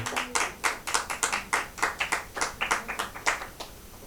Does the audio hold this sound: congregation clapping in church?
yes